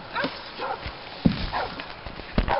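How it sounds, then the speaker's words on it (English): A vicious dog in a zombie survival video game lets out a string of short, loud barks and snarls in uneven bursts, close by and with no talk over it. "And another vicious dog."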